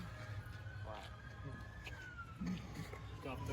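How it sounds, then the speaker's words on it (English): A distant emergency siren, likely an ambulance, wails faintly with a slow rising and falling tone under nearby talking voices. "That's like an ambulance. It's not a police car."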